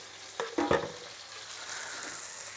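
Ground chili paste goes into a pan for sambal udang, a few sharp stirring scrapes up front followed by a soft, steady frying sizzle, no voices.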